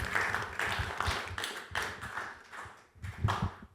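Audience applause for poetry winners at a live reading event, a burst of clapping from a small crowd that swells and fades in waves, close and moderately loud, with no talk over it.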